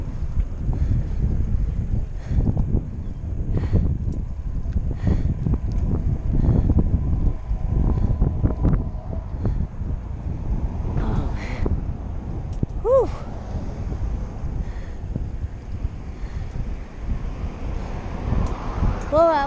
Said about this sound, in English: It's a little windy, but at least it's not raining.